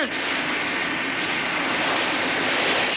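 A fictional vehicle engine, the Planète Blanche, runs at high revs with a constant loud, dense whine and roar that holds steady throughout.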